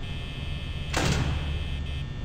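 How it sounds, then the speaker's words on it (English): A door in Five Nights at Freddy's slides open with a single quick mechanical whoosh and thunk, loud and close over a steady electrical hum, with no talking. "Okay, I need to open the door."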